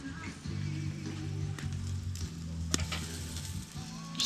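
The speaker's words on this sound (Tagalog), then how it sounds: "Habang ako ay nag-iihaw ng chicken at liempo." Chicken and pork belly (liempo) sizzling on a grill at a private beach, a steady low crackle and hiss with occasional sharp pops, close and fairly quiet, no one speaking.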